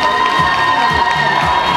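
Crowd cheering and shouting at a puppy competition of a dog show in Kyiv, a loud, sustained wash of voices with scattered claps, children's shouts mixed in.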